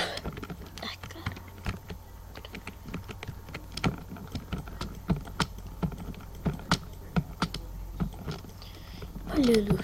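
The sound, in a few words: computer keyboard typing while playing Ace of Spades video game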